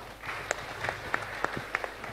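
Scattered applause from an audience at a Hari Desa (Village Day) gathering in West Java, a few sharp claps standing out over a low murmur of crowd noise, fairly faint and brief.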